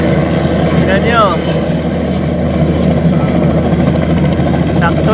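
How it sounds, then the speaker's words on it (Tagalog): A helicopter lands at a resort in Coron, its loud, continuous rotor thrum and engine roar filling the scene while people talk over it nearby. "nasaksihan natin yung paglapag ng helicopter ni Kuya Will"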